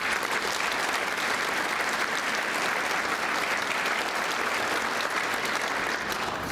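Steady, dense applause from a large audience at a tribal State of the Nation address, held at an even level throughout with no voices over it.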